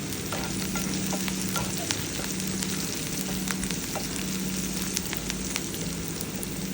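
Onions sizzling steadily in a pan for a Telugu chikkudukaya curry, a continuous close crackle with small spatters and occasional stirring scrapes.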